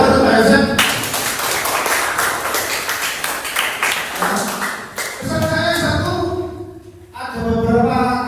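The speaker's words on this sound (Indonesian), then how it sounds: "Tepuk tangan untuk Pak Yosef." Junior high school students at a ninth-grade graduation announcement clap for a teacher, a burst of rapid clapping that surges and ebbs, interrupted by voices and amplified sound partway through.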